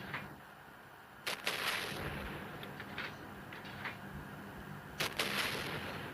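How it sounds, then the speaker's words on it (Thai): Gunfire in the LAC Online video game, a few sharp, scattered shots over a low steady background rumble, moderately faint and without speech. "ยิงเข้าไป ยิงเข้าไป อือหือ ยิงเข้าไป"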